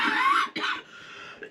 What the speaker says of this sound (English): You can hear she's coughing up in her lungs.